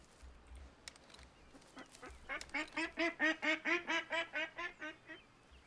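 Ducks in the hunting game Way of the Hunter quack in a fast, rhythmic series of about a dozen nasal calls, fairly clear and close, after a few scattered bird chirps.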